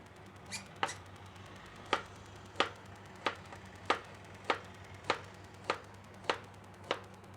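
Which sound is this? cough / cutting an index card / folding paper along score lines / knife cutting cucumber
knife cutting cucumber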